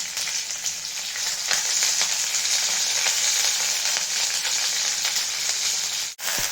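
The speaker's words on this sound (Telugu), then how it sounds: "మంచిగా తాలింపు వేయాక మనం ఆ మజ్జిగ పులుసులో ఈ తాలింపు పోసుకోవాలండి" Tempering spices for a Telugu buttermilk curry fry in hot oil, a close, steady sizzle that runs unbroken and dips briefly just before the end, with no talking.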